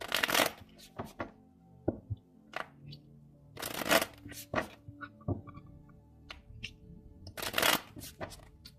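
Oracle cards are shuffled by hand in several quick riffling bursts, crisp and close, separated by soft taps and pauses.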